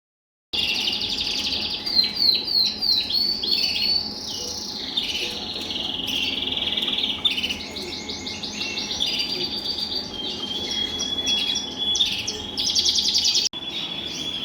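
Breeding cock birds chirp and sing continuously in quick, bright trills and tweets, with a steady insect-like buzz beneath, close and lively throughout with no talk.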